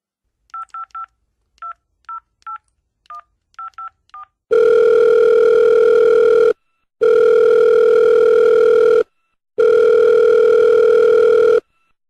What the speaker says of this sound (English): let's get Jeff on the phone